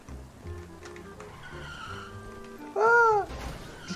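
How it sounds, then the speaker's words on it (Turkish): BMW M4 F82 drifting in GTA 5, with engine drone giving way to a loud, sustained tire squeal around the three-second mark as the car slides sideways. "Ama abi araba çok güzel yanlamaya başladı ha."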